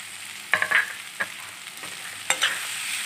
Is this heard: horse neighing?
no